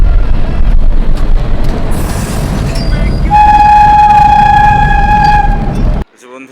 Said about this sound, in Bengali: সবাই পৌঁছে গেছি শালিমার স্টেশনে